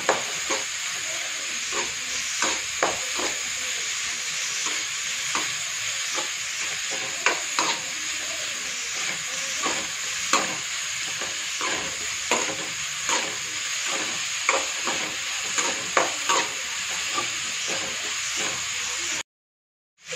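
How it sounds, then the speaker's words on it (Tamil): Vegetables and tomato sautéing in a pan as filling for stuffed chapathi: a steady close sizzle runs throughout, broken by frequent scraping stirs and knocks of a spoon, with no talking, ending in an abrupt cutoff. "நல்லா பச்சை வாசனை போகிற வரைக்கும் நல்லா வதக்கணும்."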